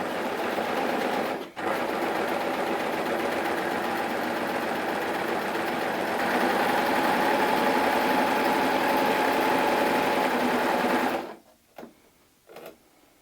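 A coverstitch machine runs steadily for about eleven seconds, sewing a chain stitch alongside a three-thread overlock with a fast, even mechanical whir and rattle, briefly pausing once, then stopping with a few faint clicks and handling sounds.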